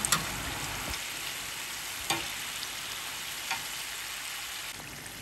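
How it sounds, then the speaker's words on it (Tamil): Murukku deep-frying in hot oil for a Diwali snack, a steady dense sizzle and fine bubbling throughout with a few soft clicks and taps, fairly close and alone without talk. "இது நல்லா பபுள்ஸ்லாம் அடங்கினதுக்கு அப்புறமா தான் நம்ம எல்லாத்தையுமே முறுக்கு ஃபுல்லாக எடுக்கணும்."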